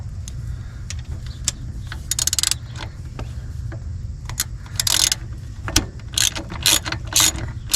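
A hand ratchet clicks in quick, close bursts while loosening star bolts on a Mercedes Sprinter van during a fuel filter change, with short pauses and metallic handling noises between runs.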